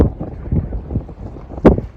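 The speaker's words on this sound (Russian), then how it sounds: "Ветер ужасный, холодно." Strong, cold gusts of wind on Norway's Lofoten Islands buffet the microphone in low, irregular rumbling bursts, with one sharper loud gust near the end.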